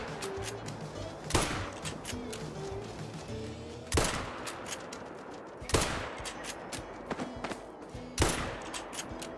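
Rifle shots from a .22 Hornet in the hunting video game Call of the Wild, four loud, sharp cracks spaced a couple of seconds apart, each with a short decaying tail over quiet outdoor ambience.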